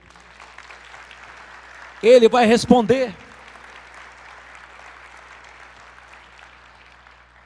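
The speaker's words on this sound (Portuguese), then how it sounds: "Você pode aplaudir o Senhor?" Church congregation applauding during a Portuguese-language sermon: a steady, fairly quiet wash of clapping throughout, briefly overtaken near the middle by a loud, emphatic spoken voice.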